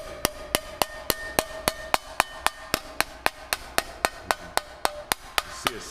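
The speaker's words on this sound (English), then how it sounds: "I added just a little bit more leverage to the hammer here and give it just a little bit more solid" Sharp metallic hammer blows ring out in an even, steady rhythm, about three strikes per second, close and loud, shaping a sheet metal custom chopper seat pan.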